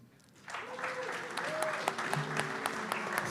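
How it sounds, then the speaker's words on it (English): Audience applause rises after a quiet moment to welcome AIMS, an artificial intelligence music director, at a humans-versus-AI music event; steady clapping from a crowd continues throughout, with some voices mixed in. "if you wish to give AIMS a welcome round of applause"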